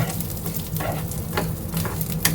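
Moong dal dry-roasting in a pan gives a continuous soft hiss and rustle, broken by a few sharper scraping stir strokes, heard close and alone.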